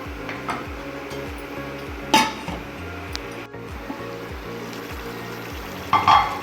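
Mutton curry with gongura, tomatoes and onions sizzles steadily in a pan, close and continuous, with a couple of sharp clinks of a utensil against the metal.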